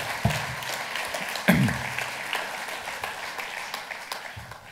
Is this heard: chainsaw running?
no